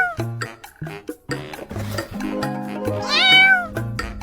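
A kitten meows repeatedly in short, tonal cries, ending with a higher, drawn-out squeal. Each cry is close and fairly loud, with brief gaps between.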